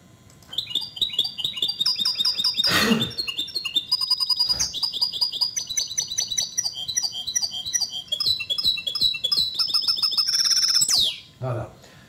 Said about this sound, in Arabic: لان الهجين يمكن ليه يغرد هذا الشكل ديال الغوده ديال الجمله